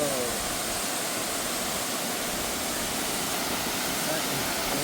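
Strong, heavy flow at the Natural Bridge waterfall roars as a dense, unbroken hiss, loud and constant across the whole stretch with no pauses.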